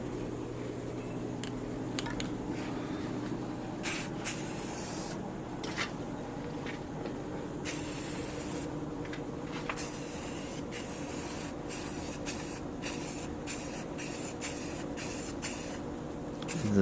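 Rust-Oleum self-etching primer sprays from an aerosol can onto a Ford Edge rebuild in a series of short hissing bursts, close and steady, with a continuous low background hum throughout.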